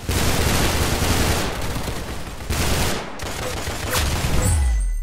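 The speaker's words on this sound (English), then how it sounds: "Good shot. You got his head." Rapid bursts of gunfire from the video game Arsenal ring out in loud, dense volleys, with a short gap before another clustered round of shots and a final boom.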